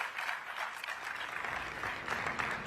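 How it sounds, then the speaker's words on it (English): Audience applause at the COP28 UN climate change conference, a steady, moderately distant wash of clapping from a large hall that continues throughout. "And you can continue to applaud, of course."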